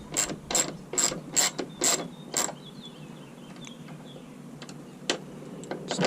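A hand ratchet works a tailgate bolt on a 2018 Ford F-150, clicking in quick rhythmic bursts of pawl ticks, then a pause with faint metallic handling and a few scattered clicks near the end.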